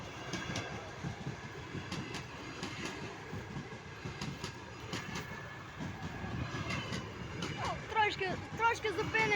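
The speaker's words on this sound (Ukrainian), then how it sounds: "показати поїзд, який зараз їде" A train rolling past on the rails beside decommissioned railway wagons, giving a continuous rumble with rhythmic clicking and some squeal near the end, moderately loud, mixed with voices talking.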